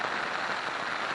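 Rain pattering steadily on a Lanshan 1 tent pitched in the Lake District fells after a windy night, a continuous close hiss of drops on fabric with no voices.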